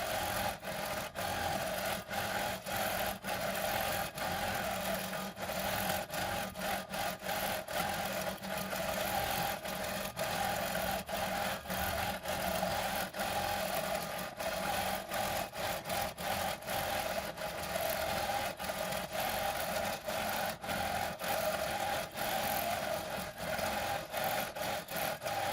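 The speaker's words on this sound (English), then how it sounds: "we're ready to stitch the same design again." A quilting sewing machine stitches a design on a custom Jayhawks quilt, running in a fast, even, continuous rhythm for the whole stretch, close and steady with no pauses and no voices.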